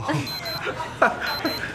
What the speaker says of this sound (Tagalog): Alarm ko dahil may meeting ako eh.